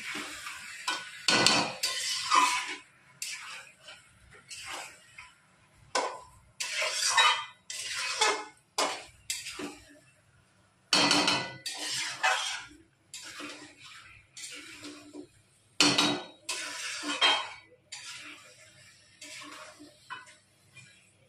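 Chicken cooks in a pan with chilli powder, cumin powder, salt and turmeric while being stirred, heard as bursts of spatula scraping and clattering between quiet pauses, with a faint sizzle underneath and no talking.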